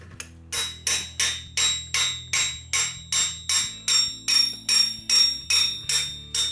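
Hammer blows striking a 1-inch socket on an extender during a Porsche 914 brake and trailing arm teardown, about fifteen steady, evenly spaced ringing metallic hits, close and loud, no talk.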